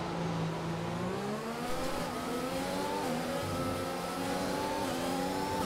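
Racing car engine in the F1 2021 video game at Bahrain, revving loud and continuous with rising and shifting pitch through gear changes, steady throughout with no talk.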